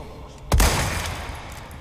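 A single sniper rifle shot from the Resident Evil 4 video game, a sharp booming report with a long rumbling decay.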